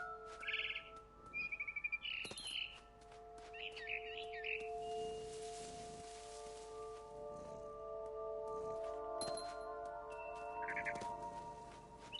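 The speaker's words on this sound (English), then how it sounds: "Then I heard chirping outside my window. It was a barn swallow going back to her nest." A barn swallow near a nest outside a window, apparently in a video game, gives quick scattered chirps and twitters, fairly faint over a low steady background.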